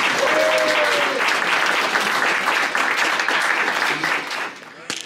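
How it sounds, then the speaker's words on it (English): A meeting audience bursts into loud, dense applause and cheering that holds steady for several seconds before tapering off, with a brief whistle-like tone early on. "I think this is the place for the big cheer for the video."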